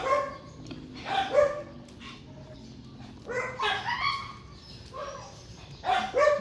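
A dog barks and yips repeatedly in short bursts, close by, with whiny excited tones between the barks.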